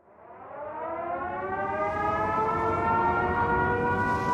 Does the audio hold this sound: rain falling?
no